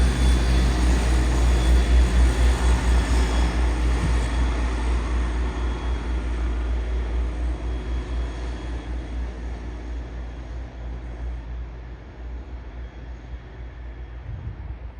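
Class 172 unit 172.01 departs Peterborough station, a low diesel rumble that is loud at first and gradually fades as the train pulls away, with no speech.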